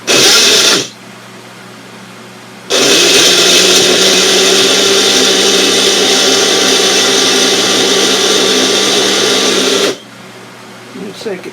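A Mainstays personal blender motor whirs loudly and steadily for about seven seconds after a brief short burst, with a faint electrical hum in the pauses around it.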